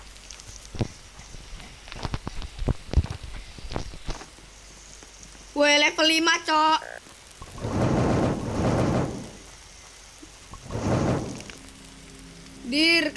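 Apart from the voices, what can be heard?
thunderstorm rain and thunder in video game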